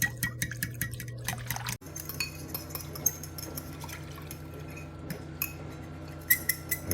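Coffee blossom traditional mead being stirred and mixed, with liquid sloshing against glass, small clinks and drips over a steady low hum, moderately close.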